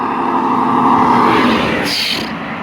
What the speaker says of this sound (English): This truck is super loud.